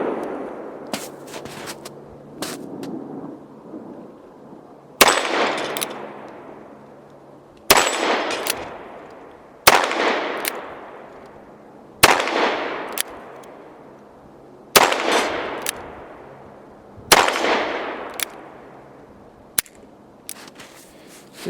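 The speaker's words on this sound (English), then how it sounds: "Give the cylinder a twist, and you're ready to shoot. So let's shoot some steel." Shots from a .44 Magnum revolver with light gallery loads fire at steel targets outdoors, with sharp loud reports spaced a few seconds apart, some followed quickly by faint metallic pings, each echo trailing off.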